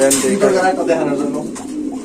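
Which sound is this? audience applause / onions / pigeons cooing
pigeons cooing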